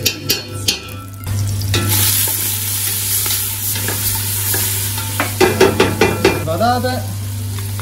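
Onion and potatoes sauté in a pan with a loud, steady sizzle, then a run of quick stirring clatters toward the end, with brief speech at the start.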